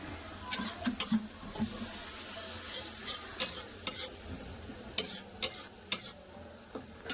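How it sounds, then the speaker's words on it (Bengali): Spices sautéing in oil in a pan, a continuous close sizzle with frequent sharp crackles and pops scattered throughout. No voices are heard. "পাশে মশলা কষা হচ্ছে আর এপাশে পেঁয়াজটা ভাজা হয়ে গেছে"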